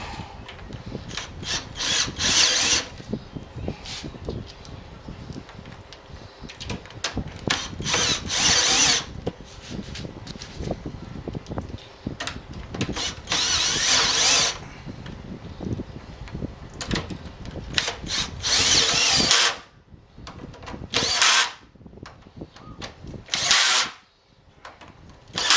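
A power drill bores starter holes through a workshop noise-reduction enclosure, coming in loud repeated bursts of whining and grinding, separated by short pauses and the rattle of handling.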